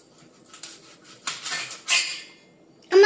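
Scattered clinks and scrapes of a knife and utensils against dishes while potatoes and vegetables are peeled and cut in a home kitchen, irregular and fairly close, ending in a sharper clatter.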